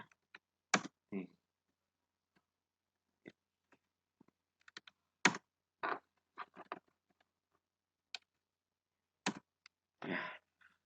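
Computer keyboard keys tap sparsely and close by in a quiet room, scattered single clicks with a few heavier strokes like the enter key, no voices present.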